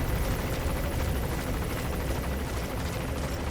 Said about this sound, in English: I'm not even paying attention to the giant fucking helicopter over my head either.